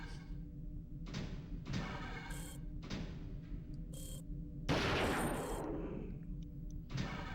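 Gunfire in a video game as an enemy is shot: several separate bursts of shots with short pauses between them and a louder, longer burst near the end, moderately close over a low background hum, with no talking.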